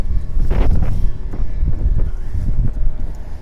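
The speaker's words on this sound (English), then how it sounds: "Well, it's windy right now." Wind buffets the microphone outdoors, with loud, uneven low-frequency rumbling gusts that surge and drop throughout, with no voice heard.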